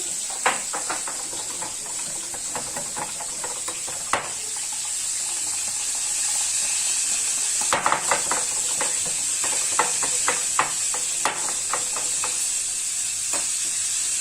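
Tilapia fish frying in a pan, a steady hiss of sizzling oil under a bright constant sputter, with scattered clicks and scrapes from a utensil turning the pieces, no talking.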